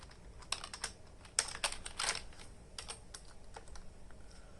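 Close, quiet typing on a computer keyboard as a drug name is entered into a search box, with uneven clusters of key taps and short pauses between them.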